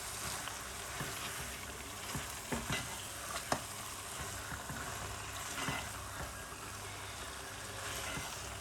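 Partly frozen moringa flowers and meat stirred together in a pan, giving a soft, steady sizzle with scattered scraping taps of the spoon, close and quiet with no talking.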